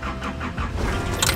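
A car engine cranks and catches near the microphone in a parking lot, with a brief rising whir of the starter, then a steady running note, and a faint metallic jingle near the end.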